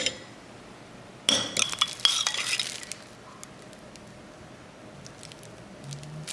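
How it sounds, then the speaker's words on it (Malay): A spoon stirring tomato puree with cumin, paprika and black pepper for chicken, a short burst of clinks and wet scraping against a bowl, then quiet with faint stray taps. "Kacau rata."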